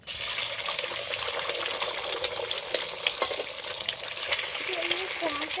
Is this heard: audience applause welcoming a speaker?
no